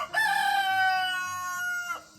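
A rooster crows once in a single long, clear cock-a-doodle-doo, close and prominent, with faint farmyard background in the morning.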